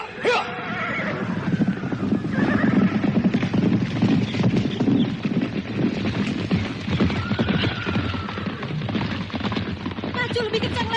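Horses pulling a carriage at speed, with loud repeated whinnies and neighs over a busy, continuous clatter of hooves and rolling wheels, with voices and other clamour mixed in.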